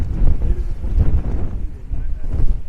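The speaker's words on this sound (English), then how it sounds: "it's a wind gust then" Strong wind buffets the microphone at an exposed hilltop campsite, a continuous low roar that swells in gusts and never fully drops away.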